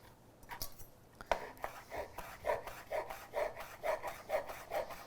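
A kitchen knife finely chopping fresh, slightly furry sage leaves on a board for homemade sausage, a steady run of soft, close rhythmic cuts with no talking.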